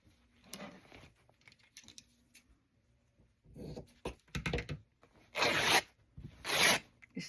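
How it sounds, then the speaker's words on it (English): Fabric being torn by hand along the selvage in several separate ripping bursts, close and fairly loud, with quieter rustling and handling between the tears and no talk. "I'm going to tear off the selvage."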